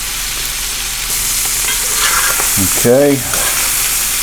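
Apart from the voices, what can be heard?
chicken hearts frying and being stirred in a pan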